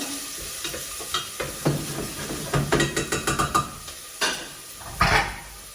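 Onion frying in a pan while being stirred, with a continuous sizzle and hiss under a run of close, rhythmic scraping taps from a spoon and a louder burst of steam near the end.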